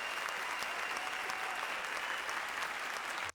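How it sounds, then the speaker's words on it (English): An audience at a live show bursts into loud, sustained applause, dense clapping that fills the room evenly for a few seconds before cutting off abruptly. "Give a big round of applause."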